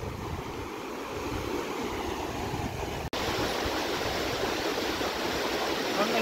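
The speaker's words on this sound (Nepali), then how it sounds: "लोख्रा खोला" Steady broadband rush of the Lokhra river flowing near a suspension bridge at Letang, heard close and continuous throughout, with a brief dropout midway.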